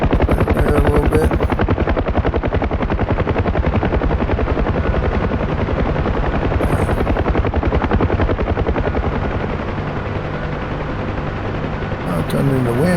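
A UH-1H Huey helicopter flies in the DCS combat flight simulator, its rotor chopping and turbine droning loud and continuous close by, with brief bursts of other noise near the start and end.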